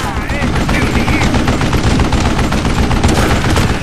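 Rapid gunfire during a firefight in the Western shooter game Call of Juarez: Gunslinger, loud and nearly continuous crackling shots over a busy battle din for several seconds.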